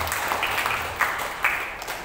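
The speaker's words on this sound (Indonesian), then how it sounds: "kita juga perlu tepuk tangan buat Ibu Epi" A church congregation claps together in steady, moderately loud applause, a dense wash of hand claps with a few sharper individual claps standing out.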